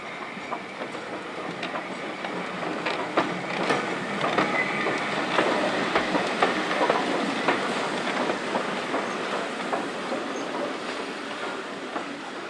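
A metre-gauge HG 2/2 steam locomotive moving slowly around a loco shed, giving a continuous close rumble of rolling wheels with rhythmic clanking and clicking and faint squealing throughout, with no voices.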